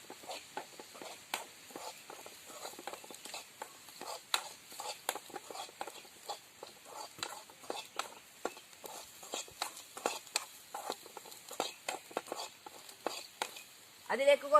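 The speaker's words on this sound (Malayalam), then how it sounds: "അതിനുശേഷം നന്നായി ഇളക്കുക." Shallot pickle with chili powder stirred in a pan, soft irregular scraping and tapping strokes repeating steadily at close range, fairly quiet, with a brief louder clatter at the very end.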